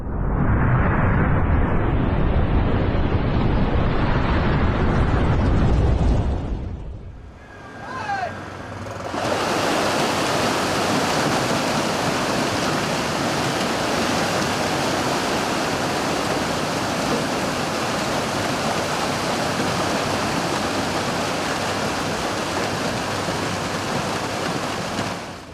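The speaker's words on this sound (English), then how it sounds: "A massive avalanche struck the northern mountain region of Pakistan, sending enormous amounts of snow cascading down the rocky slopes like a frozen waterfall." Massive snow avalanche cascading down rocky mountain slopes in northern Pakistan, a loud, steady roaring rush that drops out briefly around seven seconds, then returns as a sustained broadband roar to the end.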